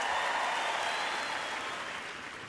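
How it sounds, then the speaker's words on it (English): An audience claps for a child who has just acted out a loud showing-off part in a classroom reading of a story, a steady wash of applause that slowly fades over a couple of seconds. "The audience gives Austin another big applause"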